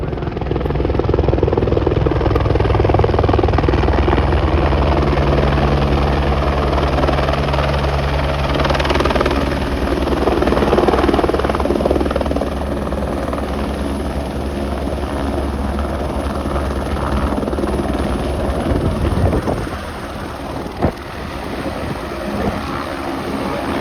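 Helicopter at the Kedarnath helipad in the mountains, a loud continuous rotor roar with strong wind noise, steady for most of the stretch before easing slightly near the end.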